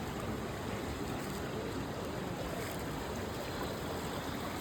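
Water gurgles and rushes steadily in a hill stream near a wooden footbridge in the Dooars hills, a close, continuous broadband flow with no voices.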